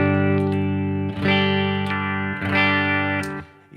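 A clean electric guitar rings out in sustained chords, a few strums spaced about a second apart, each note decaying smoothly.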